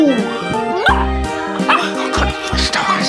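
A rescue puppy yips and barks repeatedly in short bursts with whimpering between, close and loud, with a person talking alongside.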